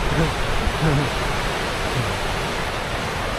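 A river rushes loudly in a remote mountain valley, a dense, steady roar of water throughout, with faint brief voices under it near the start.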